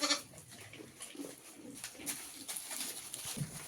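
Sheep kept in a cowshed in Bhaderwah give faint, scattered bleats amid low farmyard noise and rustling, some distance away, with no talking.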